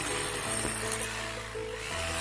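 Grinding cut into a surface to deepen grooves for burying pipes, a close, continuous abrasive rasp with a steady motor hum throughout.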